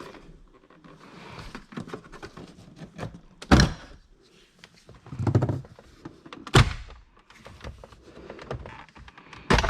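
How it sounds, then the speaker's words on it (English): Car door hardware being worked during a Pioneer DMH-WT8600NEX head unit installation: scattered clicks, taps and two or three sharp thunks of the door opening, close by, with quiet handling noises between. "For this you have to open the door."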